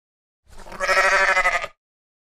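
One long, loud sheep bleat, rough and slightly quavering, heard up close with no other sounds.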